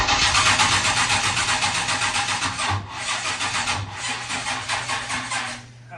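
A Chevrolet Malibu engine cranks in rapid, rhythmic churning bursts, close and fairly loud. A brief pause breaks the cranking before it resumes and fades out near the end, with no talk over it.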